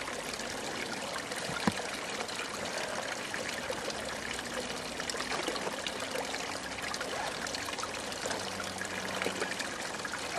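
Spring water flowing down a mountainside, a steady, faint, continuous trickle and gurgle with no voices and one brief knock partway through.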